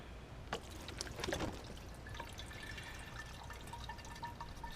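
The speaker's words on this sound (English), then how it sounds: "now we're ready to add distilled water" Distilled water pours into the cooling system of a 2001 Ford 7.3 diesel Super Duty through a flushing tee, with a steady close trickle and splashy gurgles that surge briefly early on, then settle into a quieter continuous flow.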